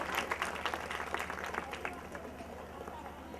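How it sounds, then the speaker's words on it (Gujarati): A crowd at a village gathering applauds to honour an elder, a former sarpanch and community leader: quick, scattered, fairly faint claps that thin out over the last seconds, with voices mixed in. "આપણે બધા તાળીઓથી વધાવીએ."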